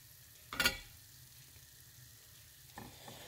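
Calamari and fish drop into hot oil in a Magic Cooker, giving a sudden brief burst of loud sizzling that fades into a faint, quiet bubbling, with a smaller flare near the end.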